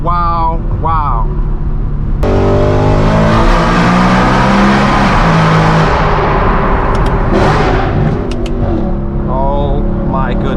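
A Gintani-tuned, straight-piped BMW M3 E92 V8 roars up through a long, loud rev from a lighter idle, holds a screaming howl for several seconds, then drops back. Brief crackles follow, with faint voices between blips.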